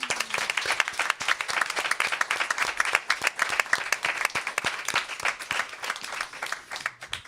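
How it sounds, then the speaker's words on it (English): An audience claps for Mandana during a live webcast, steady dense applause running throughout without a break, near and fairly loud, with no talk over it. "put our hands together so that Mandana in New York, who can't be with us today, can hear us applaud her efforts"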